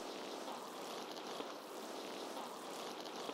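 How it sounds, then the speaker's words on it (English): A fan-and-rain sample from a music production sample pack, a dense, steady hiss of falling rain mixed with fan noise, with a faint rhythmic ducking, at low level and without voices. "I have this fan rain sound from my sample pack."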